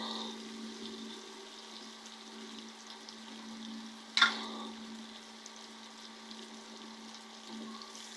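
Prawn malai curry frying in a pan: a steady, quiet sizzle with one brief scraping clatter as fried onions are stirred in, over a constant low hum.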